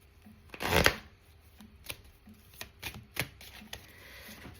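Oracle cards being shuffled for a card reading make a quick, close papery riffle burst, followed by a series of soft, scattered card taps and flicks.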